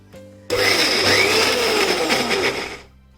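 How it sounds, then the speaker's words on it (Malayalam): A mixer grinder whirs loudly for over two seconds after a brief click, its high motor whine wavering steadily before cutting off. "മിക്സിയുടെ ജാറിലേക്ക് ഞാൻ മാറ്റിയെങ്കിലും ഒന്ന് തണുത്ത ശേഷമാണ് അടിച്ചെടുക്കാൻ പോകുന്നത്."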